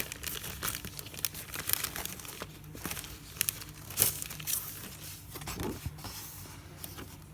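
Crinkly plastic packaging of Christmas gift tags is handled and opened up close, a continuous run of rustling and crackling with sharper crinkles and tearing bursts throughout.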